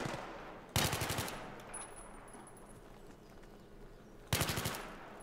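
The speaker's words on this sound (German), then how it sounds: "Schieß nochmal" Bursts of automatic gunfire in the video game Battlefield 3, two loud rapid rattling volleys about a second long each, separated by quieter game ambience.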